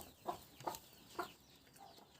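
Hens in a backyard poultry yard give three soft, short clucks spaced about half a second apart over faint background noise, with no one speaking.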